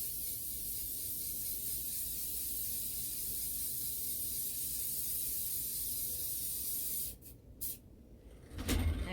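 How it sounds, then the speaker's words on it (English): Loctite spray paint hisses onto a cup in one long, continuous, fairly close spray, followed by a few short bursts and a light knock at the end. "go ahead and spray the Loctite right quick"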